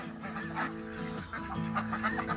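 Domestic ducks crowded in a pen during sorting by sex and colour give off overlapping nasal quacks and chatter, a steady close-up flock clamor with repeated honking calls.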